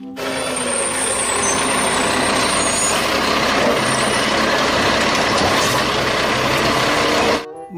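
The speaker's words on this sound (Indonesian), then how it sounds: "Mobil truk sampah." A garbage truck rumbles loud and steady with a broad engine roar and hiss of air brakes, a faint high tone running on top, before cutting off abruptly at the end.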